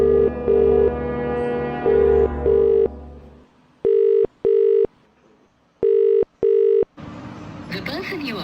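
Phone call ringing unanswered: a repeating electronic ringback tone in paired bursts with short gaps, clear and close, preceded by a sustained tonal phone melody and followed by a faint hiss.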